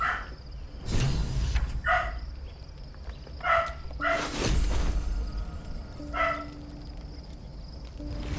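A dog barks repeatedly in a camp in the video game Baldur's Gate 3, several close yelping barks in an uneven rhythm over quiet game ambience and soft whooshes.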